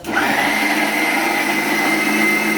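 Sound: mixer grinder blending ginger with water into paste

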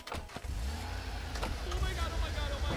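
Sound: car engine revving in Goat Simulator 3 video game

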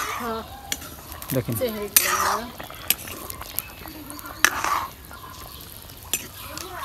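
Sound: meat being cooked and stirred in a pot

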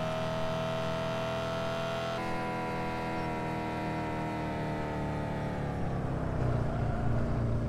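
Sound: car engine driving in Car For Sale Simulator 2023 video game

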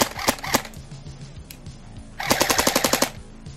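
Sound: KWA Ronin T10 airsoft gun firing

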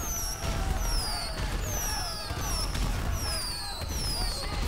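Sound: confetti and explosions from a GTA V mod, video game

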